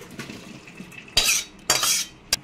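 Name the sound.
boiled young jackfruit poured into a bowl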